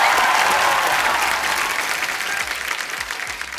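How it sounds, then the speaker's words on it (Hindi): A studio audience on a television comedy talk show claps in a thick, sustained burst of applause that starts loud and slowly thins and fades over a few seconds. "बहुत तालियां"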